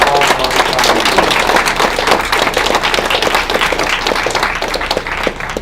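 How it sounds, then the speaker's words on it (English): A crowd claps in sustained applause for public servants who have worked with veterans, at a Veterans Affairs office opening in Thunder Bay; dense, steady clapping fills the whole stretch at a constant level. "I think we should have a big round of applause for those public servants"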